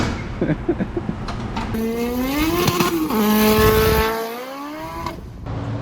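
An 800 HP turbo hatchback with a Subaru engine drives past, a loud rising and falling engine tone with a turbo whine as it accelerates and fades out.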